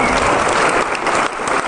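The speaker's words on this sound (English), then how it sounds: "Maybe everyone want to give him a clap." Loud, dense applause from a conference audience at a hacking convention, steady broadband clapping filling the whole moment with no talk over it.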